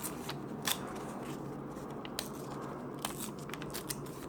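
Scissors cutting fabric pieces for a pocket and flower sewing project, a series of quiet, close crisp snips spaced irregularly over a soft background.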